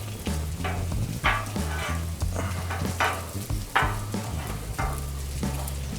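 Chopped brisket sizzles steadily on a 36-inch Blackstone griddle while a metal spatula scrapes and pushes it across the flat-top in repeated strokes, with a low hum running underneath.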